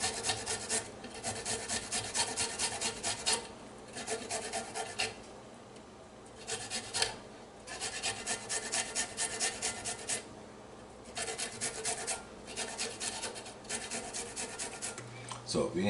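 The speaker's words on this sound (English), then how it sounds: "Now we need to get our ginger grated." Fresh ginger root rubbed against a grater for tea, a close, steady rasping in repeated bursts separated by short pauses.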